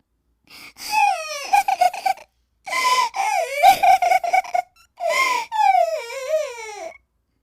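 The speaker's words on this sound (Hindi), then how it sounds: "उसे रोने की आवाज आती है।" A child cries alone in long wavering wails and sobbing bursts, close and fairly loud, with brief pauses between cries.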